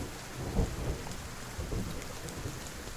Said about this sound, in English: Oh, it's actually starting to rain.